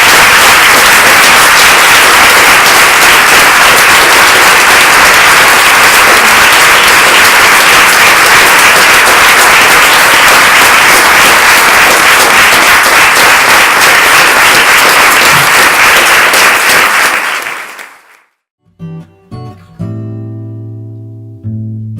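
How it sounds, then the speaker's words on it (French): Loud, dense applause from a conference audience after a talk by Biram Dah Abeid fills the room steadily for about seventeen seconds, then cuts off abruptly into near-silence. "On l'applaudit déjà."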